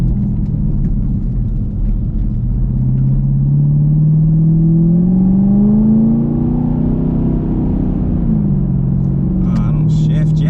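ProCharger-supercharged car accelerating hard, its engine note climbing in a long rising drone with a whine layered over heavy rumble, easing as the gear shifts and then pulling again, recorded loud from inside the cabin.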